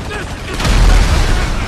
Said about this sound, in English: Oh god, that was a huge explosion.